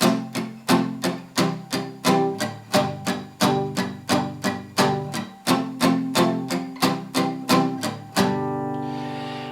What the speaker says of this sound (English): causing a little bit of a muting tone to the chords.